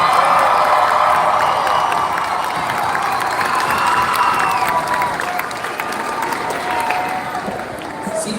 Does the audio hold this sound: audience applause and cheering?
yes